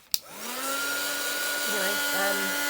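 A heat tool switches on with a click and runs with a steady whirring blow to dry a piece of vintage paper ephemera in a craft project. Its pitch wavers slightly midway, and the tone stays close and continuous.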